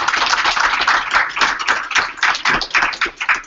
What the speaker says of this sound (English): I think we owe everybody a nice round of applause for that.